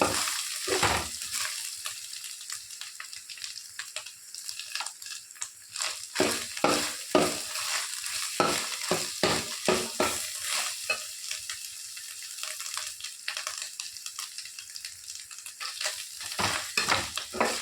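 Grated coconut is stirred and roasted in a pan. A soft, steady dry sizzle runs under repeated scraping strokes of a spoon against the pan, close and moderately loud, with no speech.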